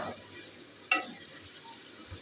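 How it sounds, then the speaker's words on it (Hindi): Chicken karahi frying in a pan, a steady soft sizzle under one sharp clink of a spoon against the metal mid-way as the meat is stirred. "इसको अच्छी तरह फ्राई करते रहेंगे। चम्मच चलाते रहें थोड़ी थोड़ी देर के बाद।"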